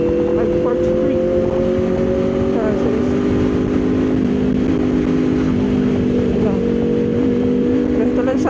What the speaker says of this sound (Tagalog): Sarap magmotor talaga pag ganito kaluwag.